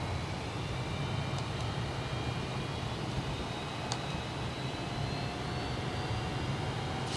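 An F/A-18C fighter jet taxis in the MSFS 2020 flight simulator, a steady low jet engine rumble and whine that stays even throughout with no voices.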